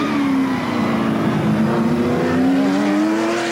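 A loud, heavy race car engine of about 425 horsepower drones steadily at high revs during the GI Joes 200 race, its pitch slowly rising and falling as the car holds speed, close and continuous.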